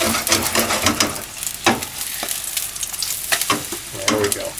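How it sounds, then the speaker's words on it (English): Thin steaks frying in a pan aboard a boat, with a loud continuous sizzle and crackle and occasional sharp pops, heard alone and up close. "Cook it quick. These are thin steaks."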